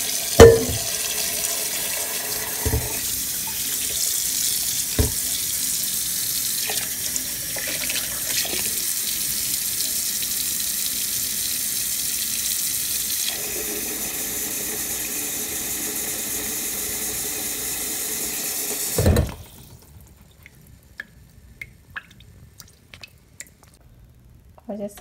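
Tap water runs steadily into a kitchen sink while goat meat is washed, with squishing and splashing under the stream. The flow stops abruptly near the end, leaving scattered drips and small handling noises.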